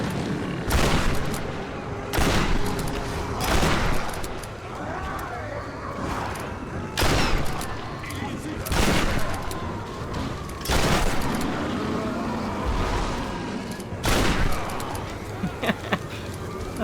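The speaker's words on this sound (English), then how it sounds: "Nothing a little shotgun can't take care of." Shotgun fire in Tomb Raider, loud booming blasts repeating at irregular intervals of a second or two across the whole stretch, with game noise between shots and some voice underneath.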